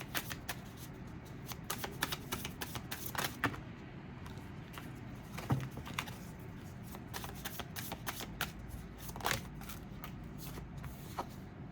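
Tarot cards being shuffled by hand make quiet, close riffling and slapping bursts in an uneven rhythm, with occasional soft taps between them.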